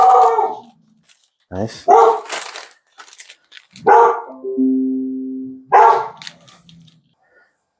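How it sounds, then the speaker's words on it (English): A dog barks indoors in a few loud, sharp, close bursts separated by pauses, while a person speaks briefly between them. "my dog was barking"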